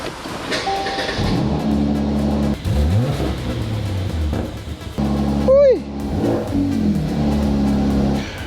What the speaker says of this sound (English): Let's go start the car up and see how it sounds with the exhaust flaps open and closed.